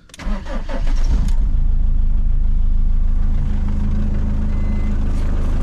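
A car engine cranks briefly, catches and settles into a loud, steady idle close by.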